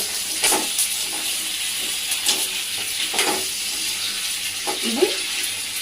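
Chopped tomatoes sizzle and fry in a pan for stuffed eggplant curry, a steady close hiss broken by several stirring scrapes, with no talking.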